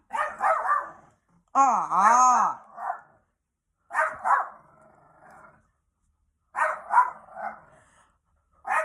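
A dog barks and whines in short bursts, with a rising-and-falling whimper early on, separated by quiet pauses; close and fairly loud.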